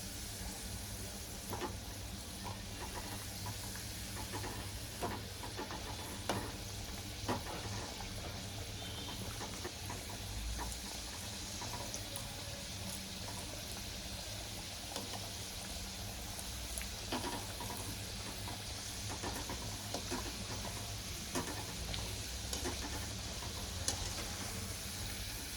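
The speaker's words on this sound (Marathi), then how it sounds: "अशा प्रकारे आपली कचोरी तळून झाली आहे" Matar kachori, pea-filled fried pastries, sizzle steadily in hot oil, a constant close crackling hiss with small pops, and no voices.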